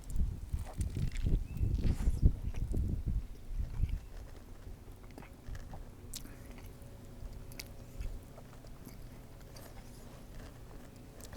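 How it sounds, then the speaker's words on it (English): A griddle-cooked burger is chewed close up during a taste test, a few seconds of moist, crunchy mastication and bites that fade into quieter, softer chewing, with no talk. "First, we're going to go with the griddle burger here on my right. Give this a taste."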